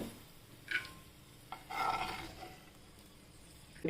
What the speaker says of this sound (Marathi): काजू आणि बदाम आपण तुपामध्ये तळून घेतोय